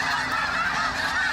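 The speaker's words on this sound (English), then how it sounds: "A flock of snow geese landed in the street and they weren't moving" A flock of snow geese on a city street honks in a dense, continuous overlapping chorus, loud and close throughout.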